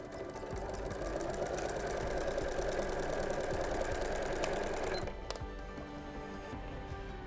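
A sewing machine stitches around a Christmas stocking in a steady, close, continuous run that stops abruptly about two-thirds through, leaving a quieter hum.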